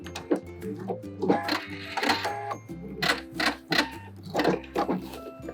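A sewing machine back stitching the understitched seam allowance on a dress, with short bursts of close mechanical whirring and clicking that start and stop repeatedly.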